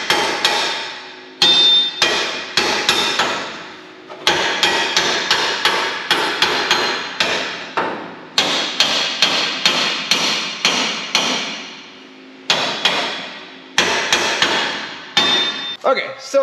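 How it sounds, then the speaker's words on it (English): Repeated sharp hammer strikes on metal, tapping a part into place on a mini gooseneck trailer, loud and close, in bursts of rapid taps separated by short pauses, ringing briefly after each blow. "Get a hammer, tap her in place."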